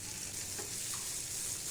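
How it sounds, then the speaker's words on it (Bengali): Brinjal (eggplant) slices fry in a little oil in a pan over a gas flame, giving a steady, close sizzle with a faint crackle and no voices. "বেগুনগুলো ভেজে নেব।"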